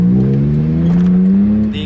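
A Daihatsu Mira with a new exhaust revs close by, a loud droning engine note whose pitch climbs steadily before dropping off at the end.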